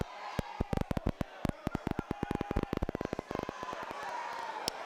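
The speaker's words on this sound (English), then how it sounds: "you can hear that crowd has really lifted" A crowd at a rugby league match between the Bears and Brothers makes loud, rapid bursts of claps and bangs that build into a steady roar, with a commentator's voice mixed in.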